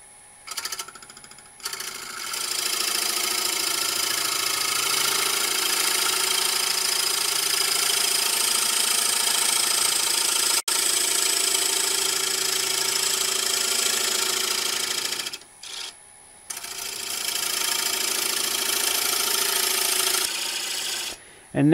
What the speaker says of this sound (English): I'm going to come in with a 3/8 inch bowl gouge and just start bringing this, and start bringing this in.